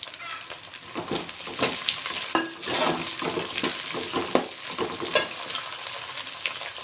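Curry leaves fried in hot oil in a pan for spinach pulao, crackling and sputtering steadily up close while a utensil stirs and scrapes through them.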